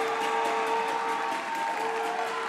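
Spectators at a high school boys' state basketball game for fifth place clapping in a thick, continuous wash of applause, with a sustained tone running through it and no pause.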